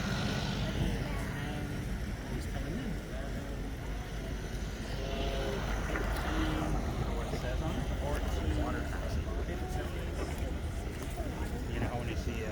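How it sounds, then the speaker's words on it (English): A small boat's motor drones steadily on the water, a continuous low rumble with faint wind, lasting throughout. "This is small boat."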